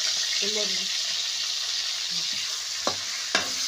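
Bitter gourd pieces fry in hot oil with a steady close sizzle, broken by a couple of sharp utensil clinks near the end and a faint voice early on.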